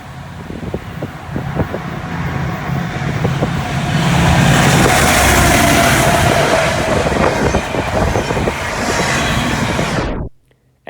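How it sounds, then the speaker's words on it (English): A Norfolk Southern SD70ACe diesel locomotive in Penn Central heritage black livery leads a freight train past at close range, a loud steady rumble with wheel clatter and rail noise that swells midway and then cuts off abruptly. "In the lead is SD70 Ace number 1073, Norfolk Southern's Penn Central Heritage Unit, painted in PC's black livery."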